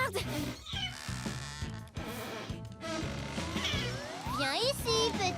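A cartoon cat meows in rising and falling wails near the end, heard over a busy score and voices talking.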